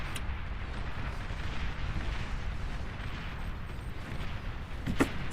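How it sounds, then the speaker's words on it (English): A nuclear explosion in the strategy game Beyond All Reason gives a dense, sustained roaring rumble of blast noise with a sharper crack near the end, loud and alone. "Nuclear explosion went off, destroying all the infrastructure in that area."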